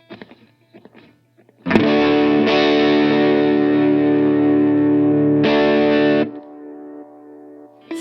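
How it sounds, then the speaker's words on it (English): Distorted electric guitar through a Line 6 POD Go rings out in a loud sustained chord after a few quiet picked notes, then cuts back as the delay pedal is switched off, leaving softer delay trails fading out. "you can hear that the delay trailed off even though the pedal was off"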